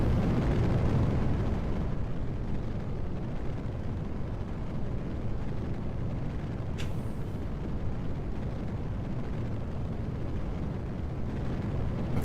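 A rocket engine roars through an ascent in the video game Kerbal Space Program, a steady, broadband rumble that holds without a break, with a brief high hiss partway through.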